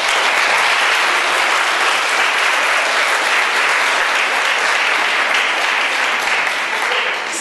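Steady, dense applause from a conference audience fills the room at an even loudness throughout, a continuous wash of many hands clapping with no voices standing out.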